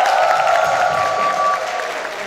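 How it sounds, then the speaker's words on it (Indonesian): An audience of parents and students claps at a school talk on raising Generation Alpha. The applause is loud and steady, with a sustained electronic tone ringing through it, and it thins toward the end. "Mana coba tepuk tangannya mana ini?"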